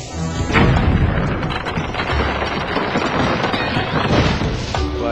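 Bomb blast in The Legend of Zelda: Skyward Sword, a loud booming crash followed by a sustained rumbling wash of debris and noise that stays dense for several seconds.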